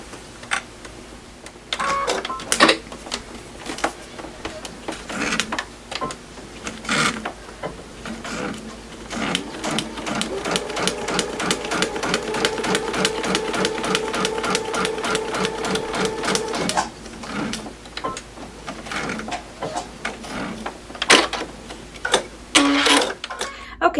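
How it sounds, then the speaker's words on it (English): A sewing machine stitching a line across a log cabin quilt block, with a fast rhythmic run of stitching in the middle, flanked by shorter starts, clicks and handling noises. "So I'm just gonna go and stitch this line right under number 11."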